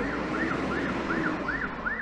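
A police siren wails on a city street, its rising and falling tone repeating steadily about every half second over a constant rumble of traffic, with no talking.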